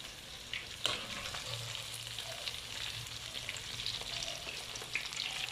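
Sesame-coated chicken pieces sizzle steadily in hot oil while being poked and stirred, a continuous close crackle with occasional light utensil knocks and no voices.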